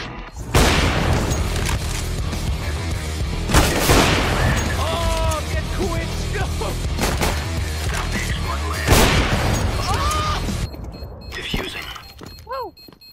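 Sniper rifle gunshots in the video game CS:GO: three loud, sharp cracks spaced several seconds apart, with game sounds and a player talking between them.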